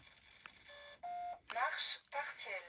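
Electronic tones from an alarm remote's buttons: several short steady beeps of varying pitch, one held longer, interleaved with voices talking nearby.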